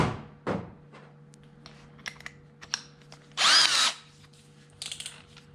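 A power drill bores a hole in a plastic fuel container, one short loud whirring burst amid light handling knocks and taps, close by, with a steady faint hum underneath.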